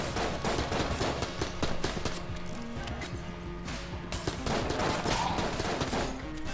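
Enemies fire dense, rapid volleys of bullets in the video game Enter the Gungeon, producing continuous loud crackling gunfire mixed with game music over several seconds.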